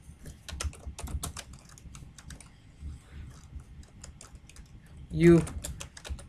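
Rapid, uneven clatter of keys on a computer keyboard, close and fairly loud, with bursts of fast typing and short pauses, and a brief spoken word near the end.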